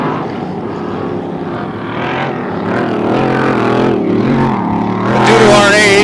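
Vintage racing boats in a large-class heat at the 2013 Moses Lake Solar Cup roar with a dense, steady engine drone that swells louder toward the end, with a voice faintly audible beneath.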